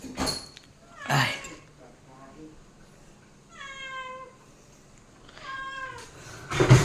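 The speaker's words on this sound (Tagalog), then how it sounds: "Puro meow-meow, puro meow-meow." Cats meowing, with several drawn-out, rising meows set apart by pauses and faint rustling between them, heard at moderate distance in a quiet room.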